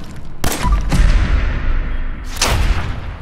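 Heavy gunfire in Fallout 4, with two loud booming shots about two seconds apart over a dense, rumbling battle din.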